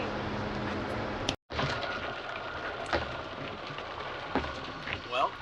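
Steady rain drums on a van pulled over at the roadside in the Rocky Mountains, a continuous broadband patter with a few sharper knocks, briefly cut out for a moment early on, while people talk faintly.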